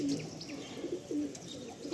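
A pair of black pigeons in a loft coo softly in low, repeated rolling phrases, close but quiet, with faint chirps in the background and no talk.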